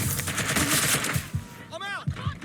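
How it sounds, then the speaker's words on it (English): Rapid bursts of automatic gunfire in the video game Watch Dogs: Legion, loud and close, with a voice calling out over the shooting. "I'm getting shot at here!"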